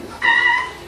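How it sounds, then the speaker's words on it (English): A cat gives a single short, insistent meow close by, trying to get someone to open a door, loud and clear over faint background noise. "This cat is desperately trying to alert the owner to open the door."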